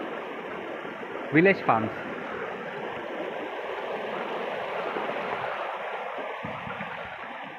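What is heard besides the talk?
waterfall flowing near a village farm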